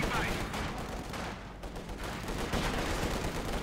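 Dense gunfire and field gun shots in Company of Heroes 2, a loud continuous battle din of overlapping shots and blasts with a brief dip midway.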